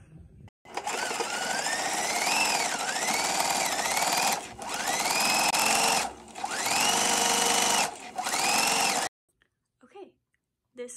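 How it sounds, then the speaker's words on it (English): Sewing machine stitching the under collar onto the back of a jacket, running in four long steady bursts separated by short pauses, each with a rising whine, close and loud, with soft speech faintly underneath. "I'm going to take the number 3 piece, the under collar, and I'm going to sew it onto the back"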